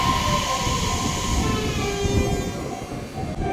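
Tobu 60000 series electric train on the Noda Line at Tsukada Station, a steady loud rumble of wheels and motors rolling close by with a faint high whine running through it throughout.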